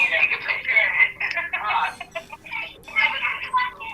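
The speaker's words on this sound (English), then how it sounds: "I got a phone call." Phone ringtone chiming in short repeating bursts, close and fairly loud, with a voice talking alongside it.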